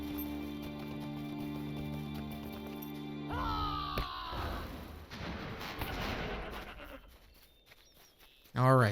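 Goats bleating in the online game Lord of the Rings Online, rising wavering cries over a steady game ambience with someone talking, followed by scrappy combat noise and a sudden loud burst at the end.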